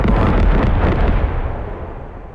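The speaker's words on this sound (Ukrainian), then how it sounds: "Це зараз не наша арта, це їх арта наша." A heavy artillery blast in the video game Squad with the Galactic Contention mod, one loud booming burst that rolls on and slowly decays over a couple of seconds.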